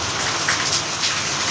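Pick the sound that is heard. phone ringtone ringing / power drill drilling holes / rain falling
rain falling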